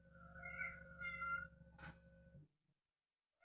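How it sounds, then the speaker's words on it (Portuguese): An orange kitten meows several times in quick succession, close and fairly quiet, each cry wavering in pitch before falling silent. "Eu tenho um gato laranja,"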